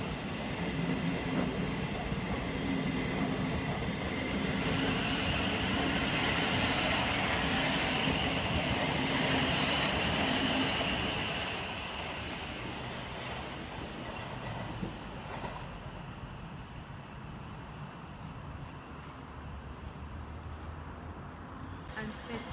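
A Class 700 electric multiple-unit train pulls into Haywards Heath station with a loud, broad rumble and rail noise close by, which eases to a quieter steady roar partway through.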